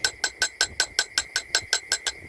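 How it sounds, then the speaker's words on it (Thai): A hammer taps the edge of a handmade ring formed from a 1974 Thai Garuda coin, delivering about a dozen evenly spaced, sharp metallic strikes in quick rhythm, close up and alone. "พยายามตอกพยายามเคาะ ให้เสมอครับให้เรียบเป็นเส้น"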